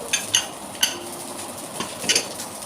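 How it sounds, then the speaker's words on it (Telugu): Garlic cloves and cumin seeds are pounded with a pestle, producing several sharp, close knocks at uneven intervals, each a short thud with a bright clack, separated by quieter grinding. "వెల్లుల్లి రెబ్బలు వేసినాక జీలకర్ర వేసుకొని దంచుకుంటున్నాను"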